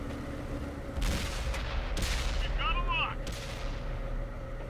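Tank cannon fire in World of Tanks on PS4, two sharp booming shots about a second apart followed by a ringing metallic echo, set against steady rumbling engine noise.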